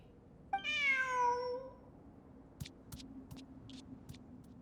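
A cat in the video game Genshin Impact lets out a single clear, drawn-out meow, followed by a few faint clicks and taps over a low steady hum.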